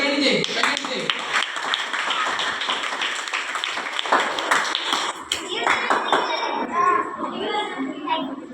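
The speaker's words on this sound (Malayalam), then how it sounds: "കൈയടിച്ചേ." Children at a church Vacation Bible School clap their hands in a lively burst of applause, the rapid taps blending with excited voices and chatter across the whole stretch.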